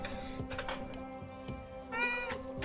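A pet cat meows repeatedly, close and fairly clear, two or three drawn-out calls over soft background clatter.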